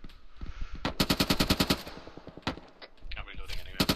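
Suppressive machine gun fire in a World War II airborne military video game: a sustained rapid burst of a dozen loud shots, followed by a few scattered single shots and more gunfire near the end.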